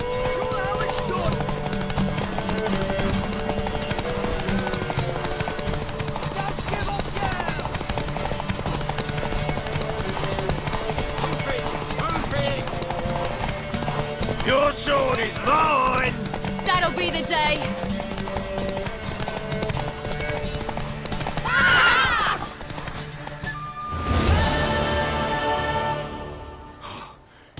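A horse's hooves clip-clop and gallop in The Witcher 3: Wild Hunt, heard alongside spoken dialogue, background music and a brief burst of noise near the end.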